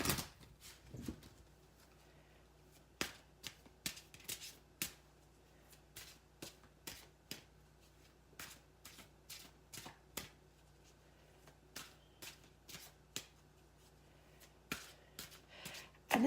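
Oracle cards from the Wisdom of the House of Night deck are shuffled by hand, producing a long series of sharp, close, papery riffle and slap bursts at an irregular rhythm over a quiet background.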